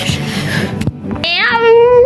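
A domestic cat lets out a long, rising and falling meow, near and loud, after a stretch of muffled noise and a brief knock.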